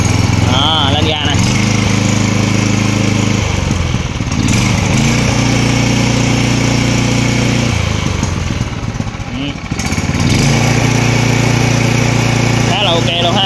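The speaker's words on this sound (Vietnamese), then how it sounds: "bây giờ lên ga nè, con máy này hết xăng, còn xăng đó, lên ga nè" Mitsubishi 181 gasoline engine with electric start, running close and loud with a steady buzzing drone that rises in pitch as it is revved, then drops back and climbs again. Someone talks over it.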